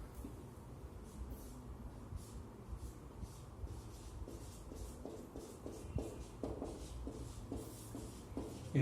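Pen scratching on paper while a definition is written out in a classroom science lesson, a soft, steady run of faint strokes and scribbles that grow slightly more distinct toward the end, with no talking.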